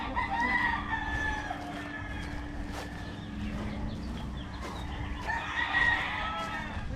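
Roosters crow a couple of times at moderate distance in Waimanalo, Oahu, Hawaii, with hens clucking and other birds in the background of a quiet outdoor setting.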